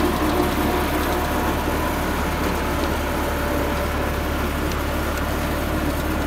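A Massey Ferguson 385 tractor pulls a potato digger through damp field soil with a steady, loud, continuous engine drone that never lets up.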